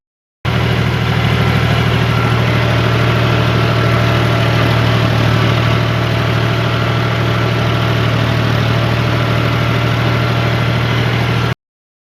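Tractor engine idling steadily in a farm field, a loud continuous low hum with a fixed rumbling tone throughout, alone with no talk.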